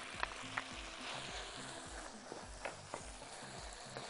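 Garlic frying in a pan while home-cooking stuffed Ouzi pastries gives a continuous sizzle, with occasional sharp clicks of stirring over a low steady hum.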